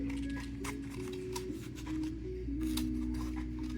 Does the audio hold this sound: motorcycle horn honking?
no